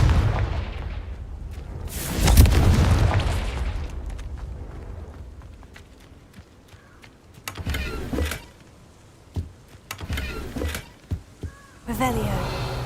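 A Confringo fire spell blasts in the Hogwarts Legacy video game: a deep, roaring explosion swells early and fades slowly. Sharper bursts and clicks follow, with a final crackling flare at the end.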